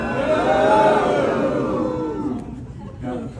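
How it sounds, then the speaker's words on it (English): A large crowd of Canadians booing the American national anthem, a loud sustained drawn-out roar of boos that swells then thins out, with scattered voices near the end. "Not just your anthem we're booing."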